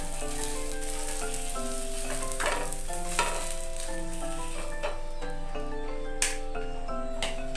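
Paneer sautéing in a pan with a steady sizzle and occasional clinks of stirring, heard under prominent background music with clear melodic notes throughout.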